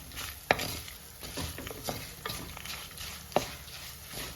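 Crushed black pepper frying in oil while being stirred in a pan for Kerala-style rasam, a continuous close sizzle with scraping spoon strokes and a couple of sharp clinks against the pan.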